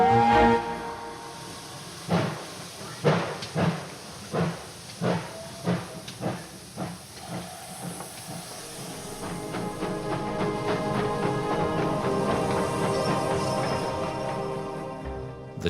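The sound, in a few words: steam train hissing steam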